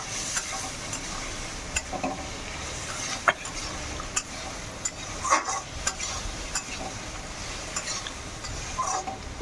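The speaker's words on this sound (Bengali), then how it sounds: "এবার আমি ছোলাটা ঢেলে দেবো। ছোলাটা না কাবলি ছোলা" Kabuli chickpeas tipped into a pan of potatoes being fried with spices, then stirred, giving a steady low sizzle broken by scattered sharp scraping and clattering clicks of a spoon against the pan.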